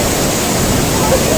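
Water falling at a waterfall throws up a spray, producing a steady, dense, close rushing hiss that continues unbroken throughout.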